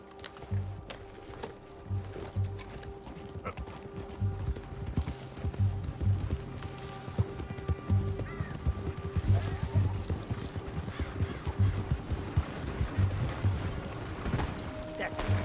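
Horse hooves clip-clop at a steady, even rhythm as a horse is ridden in the Western video game Red Dead Redemption, moderately close, with character dialogue and occasional game sounds over the hoofbeats.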